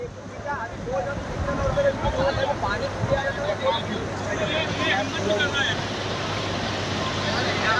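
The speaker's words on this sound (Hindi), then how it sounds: "तो देखिए पानी का बहाव कितनी ज्यादा तेज है।" Fast, swollen Maan river rushing over a flooded causeway crossing near Bakaner, a steady, loud broadband roar of churning water with wind buffeting, heard under a voice talking throughout.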